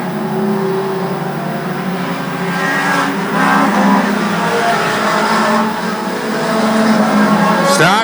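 Vintage race cars roar down the front straightaway at Farmer City Raceway while working through lap traffic, a loud, continuous engine drone that swells and fades as cars pass close by.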